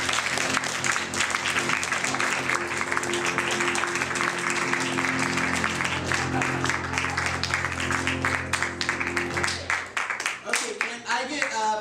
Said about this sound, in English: let's get all the performers back in the room with thunderous applause